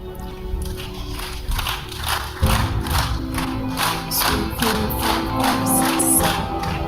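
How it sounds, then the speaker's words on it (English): An audience at a student entrepreneur summit claps in a steady, rhythmic pattern together, a series of evenly spaced group claps with a hubbub of crowd noise underneath. "So I want you to give her a Stevens clap."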